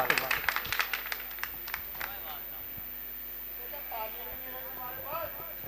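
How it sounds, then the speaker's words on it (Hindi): Scattered applause from the audience at a mushaira, an Urdu poetry gathering, welcoming a poet. Sharp claps fill the first two seconds, then thin out as a voice takes over. "तो मैं चाहता हूँ जोरदार तालियों से आली जनाब मोहतरम असलम खां असलम साहब का इस्तकबाल"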